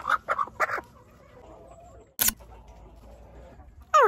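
A blue Ameraucana hen gives several short clucks up close, followed by a sharp click and more clucking at the end, with quiet pauses between.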